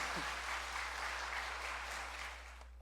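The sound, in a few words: applause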